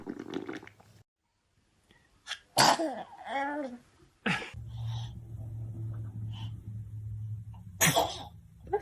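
Babies sneezing in a short series of several separate bursts, close and fairly loud, with quiet gaps and a steady low hum between them.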